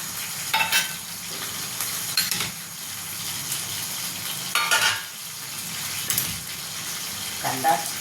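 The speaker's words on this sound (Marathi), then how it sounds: "आता तेल तापलं मग काय करायचं कांदा टाकायचा" Chopped onion sizzles in hot oil for a chicken fry, a soft steady frying hiss broken by a few louder scraping stirs of a spoon against the pan.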